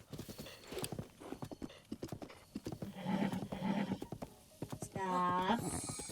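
Horse hooves clip-clop in a rhythmic run in Zelda Breath of the Wild, a quick succession of hoofbeats heard under a voice, ending in a short whinny.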